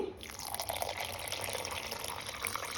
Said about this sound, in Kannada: ಈಗ ಸ್ವಲ್ಪ ನೀರು ಸೇರಿಸ್ತಾನೆ